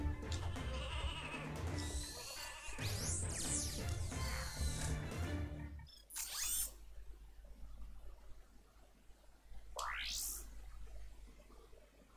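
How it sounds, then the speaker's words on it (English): Sheep bleats from the video game Ratchet and Clank 2 sound among busy game effects and music, followed by quieter stretches with a sharp rising swoosh near the end. "the sheep"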